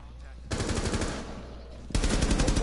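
Automatic gunfire in the tactical shooter video game Rainbow Six, in two loud sustained bursts of rapid shots, the second starting abruptly and running to the end.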